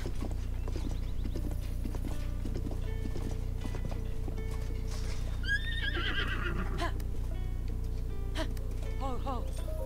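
A horse in the video game Zelda: Tears of the Kingdom whinnies several times over a steady clip-clop of hooves, with game ambience and music running underneath throughout.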